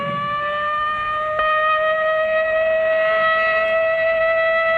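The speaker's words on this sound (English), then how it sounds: "But tomorrow, this siren may mean the real thing." A civil defense siren from an old film wails in a loud, sustained tone with a rich stack of harmonics, holding steady and swelling slightly partway through, with no talking over it.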